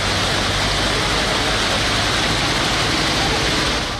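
Swat River swollen by storm rains and flooding, a loud continuous roar of rushing water with steady broadband noise and no pauses.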